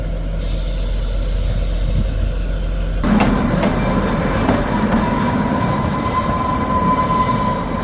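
A train with an engine and two trial coaches runs on the railway line toward Kalka, a steady loud rumble of wheels on track that swells and brightens partway through, with faint squeal tones.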